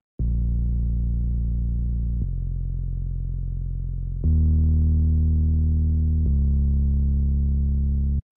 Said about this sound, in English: It's just a simple sine bass like this.